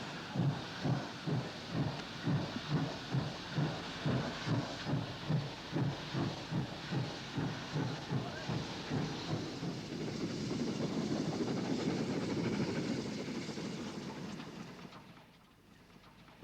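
A steam train on a railway line, its regular exhaust beats chuffing rhythmically before blurring into a rising roar and hiss as it passes close, then fading away to near quiet.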